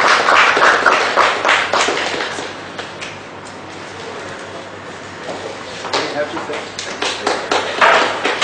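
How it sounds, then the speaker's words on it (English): Audience applause at a seminar on the changing role of internal auditors: loud, dense clapping that dips in the middle and swells again, with some voices mixed in. "Big round of applause, ladies and gentlemen"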